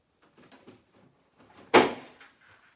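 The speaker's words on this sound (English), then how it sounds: "there's a can of soup fell over" A can of soup tips over and falls in a kitchen, a single sharp clattering knock partway through, close and fairly loud amid quiet handling noises.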